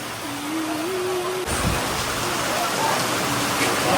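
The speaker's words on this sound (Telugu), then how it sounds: "వర్షం పడుతుంది guys సడన్ గా" Sudden rain pours down in a constant, dense rush, with a faint tonal voice-like hum in the first seconds before a soft thump.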